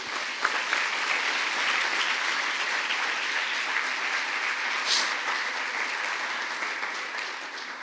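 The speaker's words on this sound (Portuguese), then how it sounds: "Vamos aplaudir a Jesus." Church congregation applauding during a sermon, a steady, moderately distant wash of many hands clapping with no talk over it.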